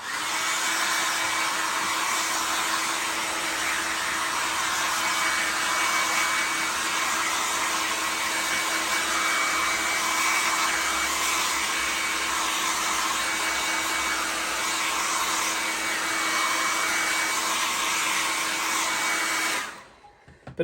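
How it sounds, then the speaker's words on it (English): A hair dryer blows continuously on an Osprey leather handbag being restored, with a steady high whine and airy rush, then cuts off abruptly at the end. "We can dry that with a hairdryer now."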